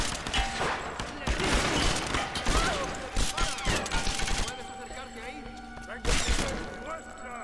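Rapid bursts of rifle gunfire in the video game Tomb Raider crack loudly again and again, dense and sharp, with voices faintly under the shots.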